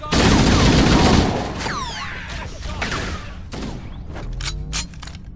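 Halo: Combat Evolved campaign firefight with a loud, dense burst of automatic gunfire up front, then scattered shots, whizzing sweeps and thuds trailing off into quieter battle noise.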